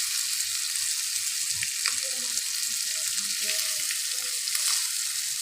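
Hyderabadi-style masala fish frying in oil, a steady bright crackling sizzle with scattered pops, close and even throughout, with no voices.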